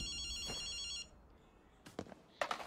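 A phone in Ghostwire: Tokyo rings with a steady electronic trill for about a second, then stops, followed by a few soft knocks and shuffles nearby.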